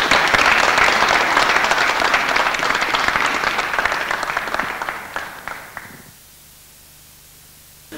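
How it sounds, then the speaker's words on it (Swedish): An audience gives a hearty round of applause for Sparbanksstiftelsen Alfa, dense loud clapping that holds for several seconds, then tapers and stops abruptly, leaving near silence. "Jag tycker vi ger Sparbanksstiftelsen Alfa en ordentlig applåd allihopa."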